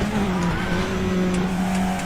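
In the RaceRoom racing game, a race car brakes hard at the Chang circuit and its tires squeal in a sustained, steady whine over continuous engine roar.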